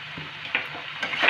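Jackfruit and potato being stir-fried in a pan with a ground poppy seed and cashew paste for a Bengali vegetarian curry, giving soft sizzling with a few spatula scrapes and stirs, close and fairly quiet, no voices.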